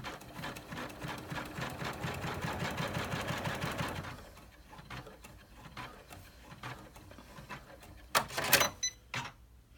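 An embroidery machine stitches a tack-down line across vinyl in a hoop, a steady rapid mechanical whir and patter that stops partway, then a few sharper clicks and clatters follow.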